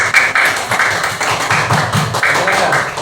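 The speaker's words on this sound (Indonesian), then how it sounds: "tepuk tangan untuk kelompok" Dense, steady clapping from a group in a classroom presentation setting, applauding group B for about three seconds, loud and close with no talking over it.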